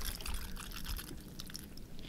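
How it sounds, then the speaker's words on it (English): Water pours and splashes from a shower bag onto potatoes being washed outdoors, a soft continuous trickle with small drips, faint and close. "It's just our shower bag, and Chad had the idea of washing our potatoes here"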